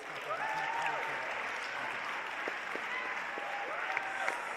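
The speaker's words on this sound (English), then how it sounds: "massive round of applause." Steady applause from an audience at a closing ceremony, a dense even wash of clapping with faint tonal sounds over it.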